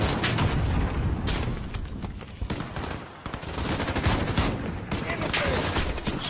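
Rapid gunfire and bursts of automatic weapons with booming impacts from the Call of Duty: Modern Warfare (2019) video game, loud and continuous throughout, with a voice speaking briefly in the mix.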